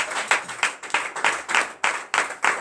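A congregation at a Saturday morning prayer service in Benin claps steadily together in acclamation of the Lord, the sharp, even beats landing roughly three times a second and carrying loud and close without any talk.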